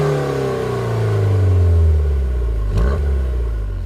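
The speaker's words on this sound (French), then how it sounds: "une nouvelle ligne d'échappement retravaillée pour sublimer la sonorité de la nouvelle motorisation THP 208" A 2015 Peugeot 208 GTi with its THP engine revs through a reworked exhaust, a loud close rising roar that climbs and then drops back sharply near the end.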